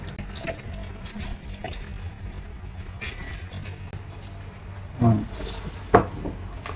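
A cup of liquid milk poured into a yogurt mixture for sweet doi, a soft trickling stream under light background noise, ending with two brief splashy pours near the end.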